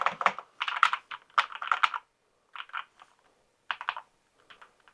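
Keys clatter on a NocFree split wireless keyboard, fast clicky bursts of typing broken by short pauses, close and clear with no voices.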